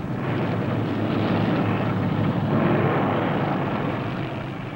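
Several 1960 NASCAR Grand National stock cars, among them Jack Smith's Pontiac near 153 mph, race flat out at full throttle in a 500-mile race. A steady, loud, dense engine roar holds for the whole stretch, swelling a little near the middle and then easing slightly.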